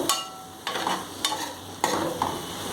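Onions fry in oil for chicken fried rice, a steady sizzle punctuated by several sharp stirring scrapes at roughly even intervals, close and moderately loud.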